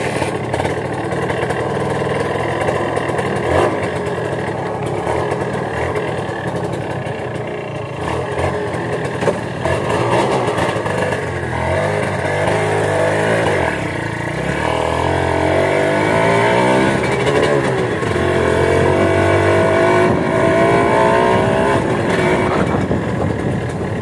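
A Kawasaki KRZ motorcycle that had stood unused for three years runs with a steady engine drone and rising and falling revs while being ridden slowly, loud and close throughout, with wind and road noise underneath.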